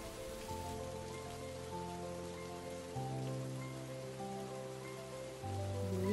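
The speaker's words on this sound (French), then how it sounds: "La pluie tombait à plein sans arrêt." Heavy rain falls steadily without a break, a continuous broadband hiss under sustained low droning tones, with no voices.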